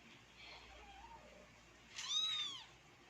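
An orange kitten learning to use a litter box gives a single rising-and-falling meow up close, preceded by faint small mews over a low room hum.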